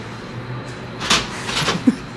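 A front door opens with a short rattle of the latch and a creaking swing, followed by a soft knock or thud, close by in an otherwise quiet room.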